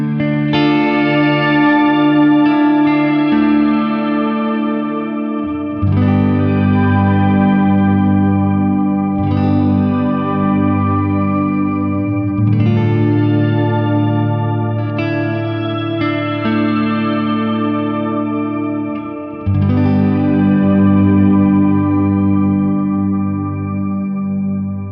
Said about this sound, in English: Octave pitch shifting to make everything sound beautiful and epic